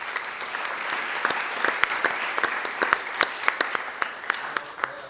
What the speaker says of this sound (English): if you can join me in a round of applause for Rodney as well